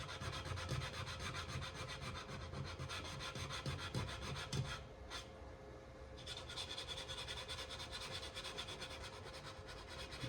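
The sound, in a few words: hand sanding segmented wooden bowl bottom with the grain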